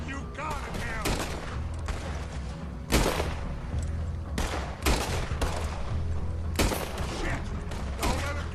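Repeated gunfire in Red Dead Redemption 2: loud, sharp shots crack out in clusters, at about one, three, five and seven seconds, over a steady bed of game ambience.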